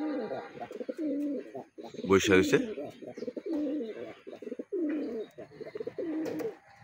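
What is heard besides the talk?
male pigeons cooing in a loft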